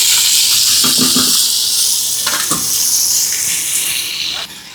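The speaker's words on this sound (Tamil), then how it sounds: "இப்போ எண்ணெய் நல்லா சூடாகிடுச்சு இப்போ வெட்டி வச்ச காய்கறி போட்டுக்கணும்" Chopped vegetables hit hot oil for a crab curry cooked on a stove by fishermen, giving a loud, steady sizzling hiss that carries throughout with a few louder spits.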